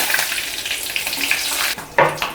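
A bunch of curry leaves and three slit green chillies hit hot oil for tomato rice, giving a steady, close frying hiss that briefly drops away and then bursts back loudly near the end.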